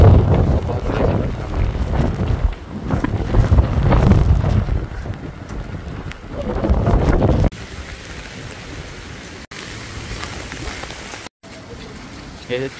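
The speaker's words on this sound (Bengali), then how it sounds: "এত বাতাসের কারণে মনে হইতেছে যে সাগর" Strong gusting wind buffets the microphone beside the Mongla river during Cyclone Remal, a loud roar in the first half that drops to a steadier, quieter rush, with rain mixed in.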